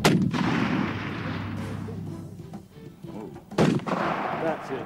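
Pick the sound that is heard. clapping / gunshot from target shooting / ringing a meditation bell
gunshot from target shooting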